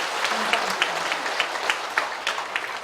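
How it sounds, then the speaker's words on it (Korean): Congregation clapping at a church thanksgiving worship service honoring a pastor, a steady dense wash of applause with a few sharper claps standing out, plus a faint voice murmuring underneath. "하나님께 영광의 박수"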